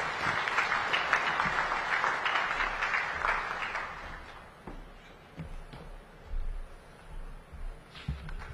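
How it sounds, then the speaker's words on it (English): Dense applause from delegates at a heads of state summit swells for about four seconds, then thins into scattered claps and room noise. "Another round of applause, ladies and gentlemen."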